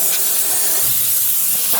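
Compressed air blasting out a freshly ground metal part in a workshop, one loud continuous hiss held steadily for nearly two seconds, close and alone.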